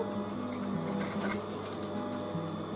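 A sewing machine stitches a seam in a velvet dolly bag made from scrap fabric, running slowly as a steady whirring, rapid mechanical chatter close by with no pauses.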